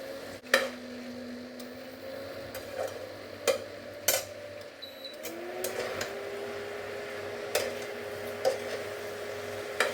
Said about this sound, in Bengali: মশলার সাথে 1 মিনিটের মতো এটা কষিয়ে নিতে হবে।